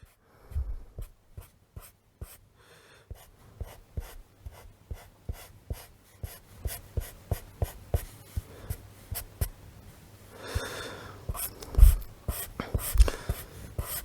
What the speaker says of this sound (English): You're going to be listening to me drawing blind, essentially.